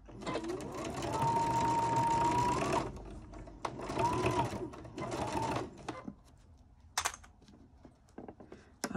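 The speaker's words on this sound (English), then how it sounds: "now I'm just going to sew all the way along there" A sewing machine stitches a 1/4 inch seam on a quilt-as-you-go zippered pouch with a zipper foot, running in a long steady burst, then shorter bursts, then scattered clicks and quiet handling sounds.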